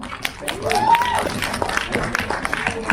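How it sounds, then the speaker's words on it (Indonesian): Audience clapping for a film's cast and crew at a press event, scattered claps with voices and a brief whistle-like tone over it, moderately loud and somewhat sparse. "Boleh sekali lagi tepuk tangan."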